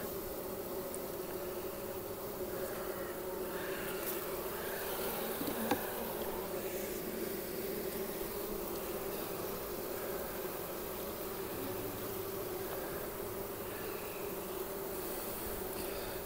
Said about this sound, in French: Il y a très peu d'abeilles sur les cadres